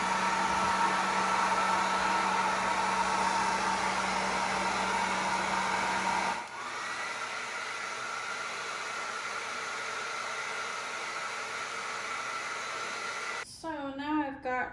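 A hair dryer blows steadily while a Chinese Crested dog is blow-dried, a loud continuous whooshing hum that drops to a lower setting partway through and keeps running, with a brief burst of speech near the end.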